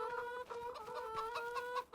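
Free-range chickens in the video game Farming Simulator 25 give off repeated clucks and short calls. The flock sounds close and moderately loud in a continuous farmyard chorus, with no voices.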